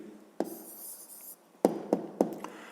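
Pen writing an answer on paper during a fifth-grade maths exercise: a few soft, close scratching strokes in short separated bursts, with no talk.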